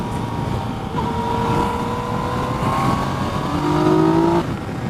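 A 2016 Yamaha FJ-09 three-cylinder motorcycle accelerates hard in second gear, its loud, close engine note rising steadily in pitch and then cutting off near the end.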